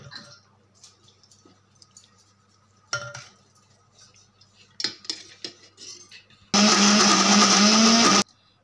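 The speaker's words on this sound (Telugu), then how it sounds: "మిక్సీ అయితే పట్టేసుకోవాలి." A loud mixer grinder whirs steadily for a couple of seconds grinding lentils after scattered clinks and taps of utensils.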